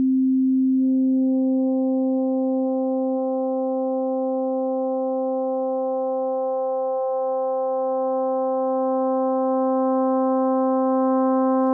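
Steady FM synthesis tone from a Waldorf Quantum, a modulator piling harmonics onto the carrier, holding one loud sustained pitch with a stack of overtones that gradually fills in, with a brief dip partway through.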